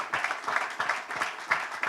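An audience at a pickleball championship press conference applauds, a short burst of moderately loud, somewhat distant clapping with uneven pulses and no talk over it.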